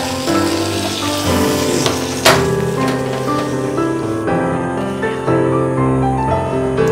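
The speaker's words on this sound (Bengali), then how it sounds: "এবার আমি এই সেদ্ধ মটর আলুটাকে এই মশলাটার মধ্যে দিয়ে দেবো।" Boiled peas and potatoes tumble into a pan of frying spice paste for Bengali ghugni, raising a loud, dense sizzle with a sharp splash partway through, over faint background music.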